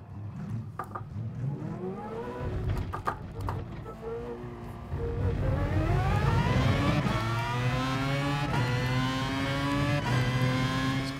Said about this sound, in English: This car sounds so weird.